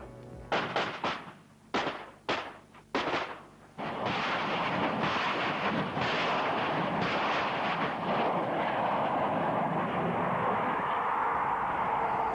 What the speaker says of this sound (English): And 60 seconds after stopping, the first projectile is blasted on its way